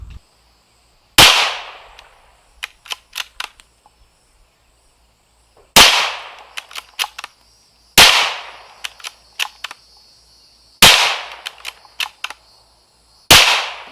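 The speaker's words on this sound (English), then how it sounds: "Second salvo here is going to be jacketed hollow point 22 Magnum." Five loud gunshots from a .22 Magnum firearm loaded with jacketed hollow point rounds, each sharp crack followed by several quick clanks or pings, spaced a few seconds apart outdoors.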